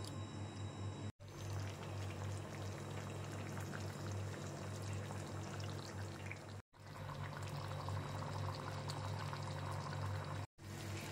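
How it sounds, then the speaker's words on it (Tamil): A continuous bubbling, hissing simmer of drumstick masala curry cooking in a pan, steady and close, with no talking. "இப்போ இந்த மசாலாவோட சேர்ந்து முருங்காய் வந்து நல்லா கொதிக்கட்டும்."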